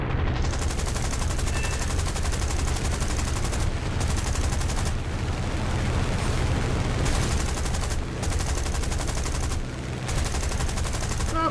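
Aircraft machine guns rattle in a War Thunder Battle of Britain air fight, a tail gunner among the shooters, loud and close in long continuous bursts with only brief breaks under steady engine roar.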